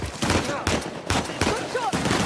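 Rapid gunfire during an ambush in Uncharted: The Lost Legacy, loud close shots in quick bursts mixed with brief shouted voices.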